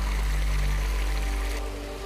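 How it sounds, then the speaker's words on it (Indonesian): Waste water pours from a drain into the Bengawan Solo river, a steady loud rushing flow that eases slightly near the end, with no voices. "jelas sekali langsung mengalir ke muara atau aliran Sungai Bengawan Solo yang berada di wilayah ini"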